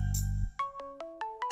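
A mobile phone rings in a domestic scene from a Hindi TV serial, a melodic ringtone of evenly spaced notes repeating clearly and fairly close.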